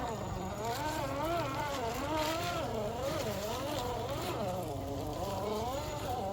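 An FMS FCX10 LC80 RC crawler creeps along in first gear, its small electric motor giving a quiet wavering whine that rises and falls with throttle over soft background noise.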